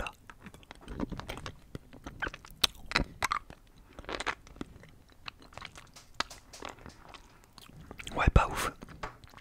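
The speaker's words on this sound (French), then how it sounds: "Et on va goûter au chocolat." Close, crunchy chewing and biting of chocolate candy, irregular wet bites and mouth sounds spread throughout at an intimate near distance, with a sharper crunch near the end.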